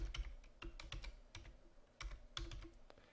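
Keys clatter on a computer keyboard as a file name is typed into a browser-based spreadsheet app, giving a quick irregular run of close, crisp taps with short pauses and no speech.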